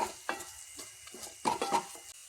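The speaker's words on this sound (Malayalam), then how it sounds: "എന്നിട്ട് നമുക്കിതൊന്ന് ഇളക്കി കൊടുക്കാം." Chilli, coriander and turmeric powder being stirred into cauliflower curry in a pan, with soft sizzling and several scraping spoon strokes, a cluster of louder ones near the end, close and without talk.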